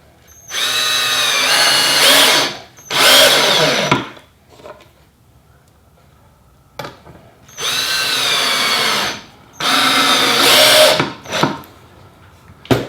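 Power drill driving 2.5-inch screws into wooden raised garden bed boards stacked on 4x4 posts, four loud whirring bursts of a few seconds each, rising in pitch as the motor spins up, with short pauses between pairs, close up.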